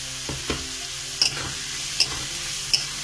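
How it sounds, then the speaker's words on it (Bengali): Bay leaves, cinnamon and cardamom sizzle in hot oil for egg biryani, a steady close frying hiss broken by a few sharp spoon clicks. "কয়েকটা তেজপাতা আর এখানে দারুচিনি আর এলাচ আছে,"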